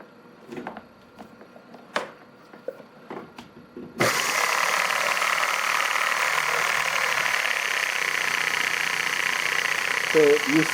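An HO-scale live steam 2-8-0 model locomotive running on compressed air on a test bench, a steady close hiss and mechanical whir starting abruptly after a few clicks and handling noises, continuing evenly to the end.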